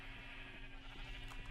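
Minecraft sheep bleat faintly in a stacked tower of sheep inside the video game, with soft overlapping bleats over a low, steady background.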